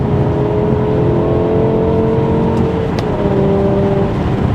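A BMW M5 with a 500 hp V10 engine and seven gears roars under steady acceleration from inside the car, a loud, continuous engine drone with a brief shift-like blip midway and no speech.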